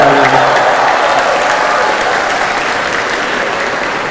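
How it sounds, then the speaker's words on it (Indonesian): An audience at a humorous religious lecture breaks into loud, sustained applause, the clapping near and dense at first and then easing off slightly, with a faint voice underneath. "Kenapa tepuk tangan nih?"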